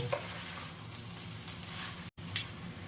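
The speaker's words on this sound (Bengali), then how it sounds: "এবার আরও একটু নাড়াচাড়া করে নিয়ে" Labra, a Bengali mixed vegetable curry with ghee or oil, being stirred in a pot, giving a soft steady scraping and faint sizzle with a few brighter utensil scrapes and a brief gap of silence.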